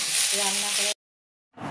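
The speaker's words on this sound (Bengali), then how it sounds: "ভারালিটা এবার দিয়ে পরিমাণ মতো নুন আর হলুদ দিয়ে ভাজা ভাজা করে নিব" Bharali fish fries in a pan with salt and turmeric, giving off a bright, hissing sizzle with low bubbling for about a second, then a brief silence before the sizzle returns.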